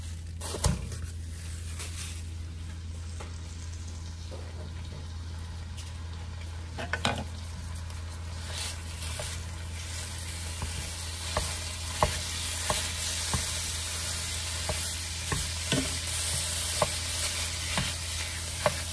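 Ground beef frying over medium-high heat hisses and sizzles steadily in a pan, with occasional clicks and scrapes from stirring becoming more frequent toward the end.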